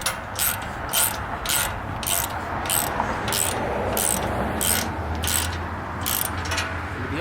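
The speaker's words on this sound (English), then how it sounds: "I do have a 9/16 wrench and a 9/16 socket, which I'm just going to get at least snug, but not tight" A ratchet with a 9/16 socket snugs bolts while a basketball hoop is being installed, giving a rhythmic series of sharp clicking bursts, about a dozen evenly spaced strokes over a steady outdoor background hiss.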